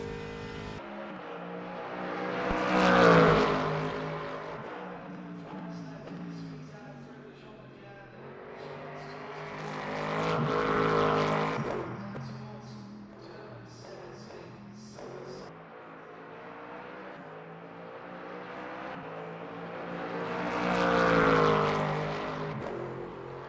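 A loud GT3 race car engine in the Le Mans Ultimate video game roars past three times, each pass swelling and fading, with high revving tones and gear shifts between.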